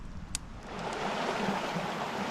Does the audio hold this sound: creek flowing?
yes